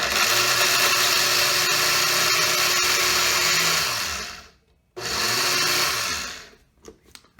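Kitchen blender grinding big chunks of dried egg into powder, a loud steady whir with clunking as pieces hit the blades, briefly cutting out near the end before restarting and stopping again.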